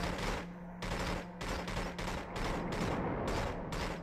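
Automatic weapon fire in 007 Agent Under Fire, a string of sustained bursts separated by short pauses, loud and close with no speech.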